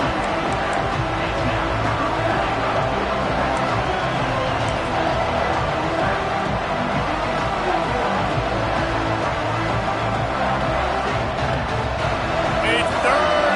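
Stadium crowd at a college football game, a constant dense roar of many voices under a commentator's talk throughout.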